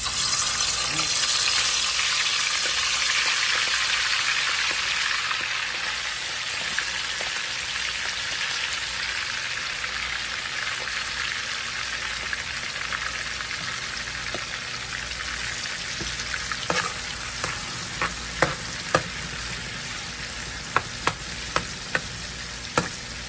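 Hot oil sizzles steadily while Haitian vegetables cook for a rice dish, a dense continuous hiss that holds throughout, with a few sharp clinks of a utensil against the pot near the end.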